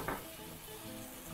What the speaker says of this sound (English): So onto a hot pan, I will proceed to add my oyster sauce